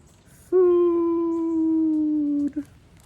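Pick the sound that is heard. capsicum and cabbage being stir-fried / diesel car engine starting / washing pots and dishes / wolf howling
wolf howling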